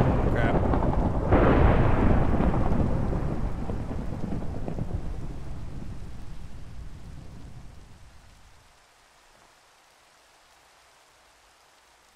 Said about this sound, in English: That lightning just hit over there.